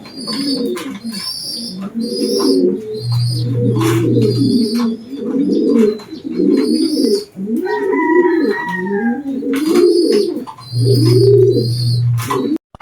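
Pigeons coo repeatedly in low, rolling phrases, with a couple of deeper, louder coos standing out and some chirping birds in the background.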